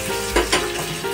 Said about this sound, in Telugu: చివరిలో పోపు వేసుకొని కలుపుకోవాలి